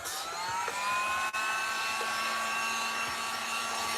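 A hair dryer blows steadily up close to dry fresh paint on a homemade wooden riser, a loud continuous whirring roar with a faint high whine and one brief dip in the airflow.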